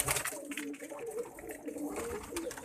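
Pigeons, including a female and a male strutting nearby, give soft, repeated throaty coos at close range over faint background noise.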